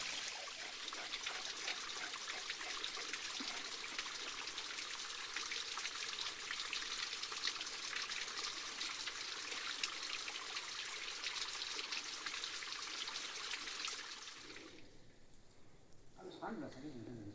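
Water pours and trickles steadily from the pipe of a freshly cleaned water tank in a Nepali village, a continuous splashing flow that cuts off near the end.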